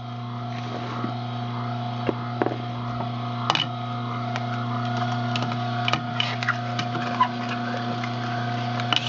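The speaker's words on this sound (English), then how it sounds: "They also grind good through the machine." A tomato juicing machine grinds grape tomatoes with a steady, close motor hum, broken by frequent small clicks and knocks as the fruit is crushed.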